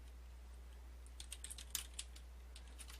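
Keys on a computer keyboard are tapped in short, light clusters, fairly quiet and close, over a low steady electrical hum.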